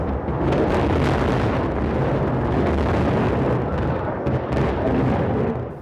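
Airstrike explosion in Lebanon, a loud continuous roar and rumble that fills the whole stretch with no gaps, heard up close and without any speech over it.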